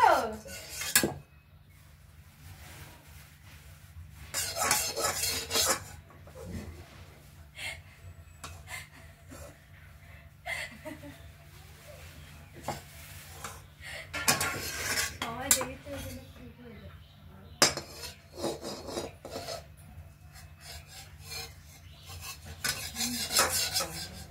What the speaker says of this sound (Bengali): এদিকে আমার গুড় কেটে নেওয়া হয়ে গেছে